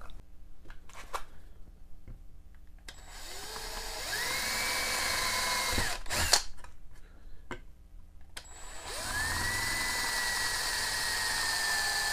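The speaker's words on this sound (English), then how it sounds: "I use a small drill bit here to drill holes in either side of the nail" A small electric drill with a small bit whirs into wood beside a nail in two bursts, spinning up to a steady high whine, then stopping, with a short pause and light handling noises between.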